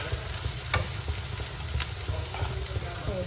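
A spoon stirs and mixes spicy fish masala in a sizzling pan, with soft scraping strokes at a steady pace over a constant frying hiss, close up and fairly quiet.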